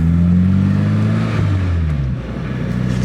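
A Toyota AE86 fitted with a new T3 short shifter accelerates on a mountain road. Its loud, close engine note drops through a gear change midway, then carries on alone.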